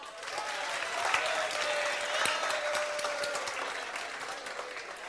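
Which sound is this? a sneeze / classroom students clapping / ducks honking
classroom students clapping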